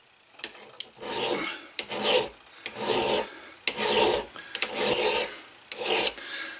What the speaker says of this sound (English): my file is just kind of rolling over that edge just ever so slightly